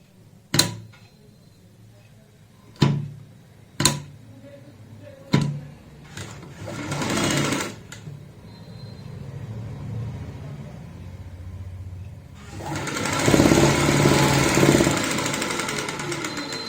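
Sewing machine stitching a kurta, several sharp clacks and short bursts of motor whir before a longer, louder run of stitching near the end, close by and alone.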